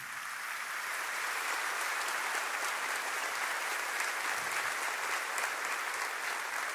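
A church congregation applauds, with dense, sustained clapping from a large crowd that fills the room evenly at a moderate distance and holds steady throughout.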